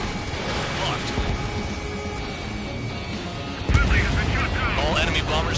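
Bombers blowing up in the combat flight game Ace Combat 7: sustained rumbling battle noise erupts into a louder, sharper blast burst partway through, then continues dense and heavy to the end.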